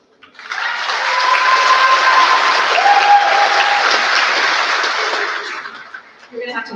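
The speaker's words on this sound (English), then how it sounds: "You're going to have to hold your applause first." A crowd at a high school graduation ceremony bursts into sustained applause, loud and steady for several seconds before tapering off.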